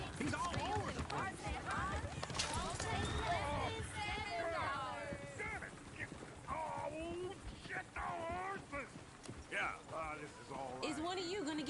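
Hooves of a horse-drawn coach clop along in Red Dead Redemption 2, a rhythmic clatter under frequent talking from game characters and some background bustle.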